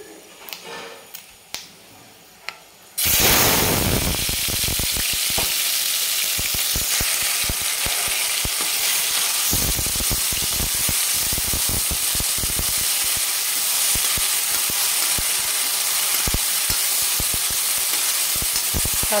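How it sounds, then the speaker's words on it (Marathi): Raw ground onion paste from two large onions drops into hot oil with a loud burst of sizzling. Vigorous frying then continues steadily, broken by scraping stirs. A few light clicks come just before it. "कांद्याचा कच्चापणा जाण्यासाठी थोडंसं 1-2 मिनिट फक्त तेलामध्ये फ्राय करून घ्यायचे।"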